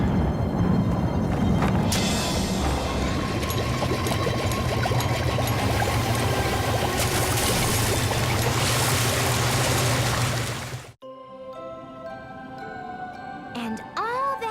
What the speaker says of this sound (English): the fountain sprayed and sprayed